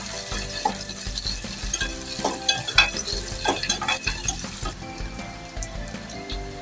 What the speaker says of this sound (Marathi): कांदा थोडा तेलावरती परतून घेऊ 1 मिनिटभर.